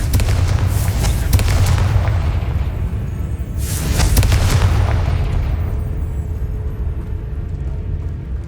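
Spell explosions in the video game Hogwarts Legacy, loud booming blasts with rumbling low-end swells around the start and again midway, dense and close, over continuous game noise.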